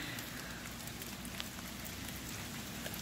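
Light, steady rain pattering on a surface, a soft continuous hiss with scattered tiny drop ticks, fairly quiet.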